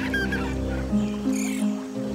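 Ducks at a pond in an animated fairy-tale story, giving a few honking, quacking calls over a steady low background hum, fairly close and moderately loud.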